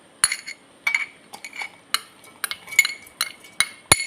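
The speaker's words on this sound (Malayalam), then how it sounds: "അപ്പോൾ നമുക്ക് ഓരോന്നായി മിക്സിയുടെ ചെറിയ ബൗളിലോട്ട് ഇടാം." Fried fish and other chammanthi ingredients drop one at a time into the small steel bowl of a mixer grinder. About a dozen sharp clinks and taps come in an uneven rhythm, close and fairly loud, with no talk.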